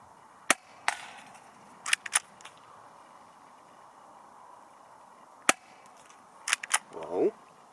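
A CZ75 SP-01 Shadow airsoft pistol fires sharp, distinct pops spaced out over several seconds, a few single shots followed by a quick cluster of three near the end, with faint background noise between.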